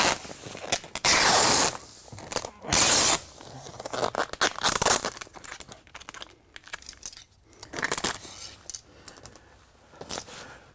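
Adhesive tape being torn and pressed along an overlapping vapour barrier seam on an insulated basement foundation wall, with loud ripping bursts early on followed by scattered crinkling and rubbing of plastic sheeting close by.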